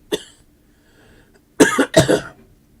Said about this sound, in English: You sound like your cough is not that much better.